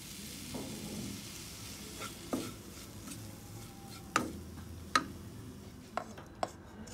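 Minced meat cooking in a pan with lemon juice added, giving a quiet, steady sizzle broken by several sharp utensil clinks against the pan; no talking.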